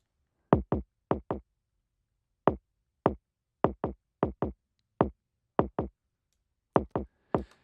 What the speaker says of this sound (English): Let's solo our high kick sound.